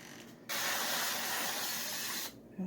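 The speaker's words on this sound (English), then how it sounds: "spray the bottom of that pan" A steady, close hiss of an aerosol cooking spray lasting about two seconds, starting and stopping abruptly against quiet room noise.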